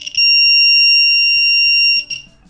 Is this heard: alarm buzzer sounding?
yes